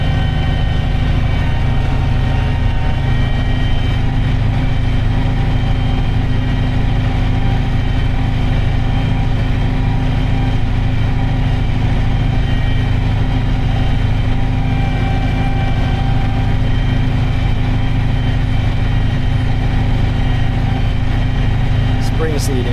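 A tractor engine drones loud and steady while plowing a field, a continuous low rumble held throughout with a voice talking over it.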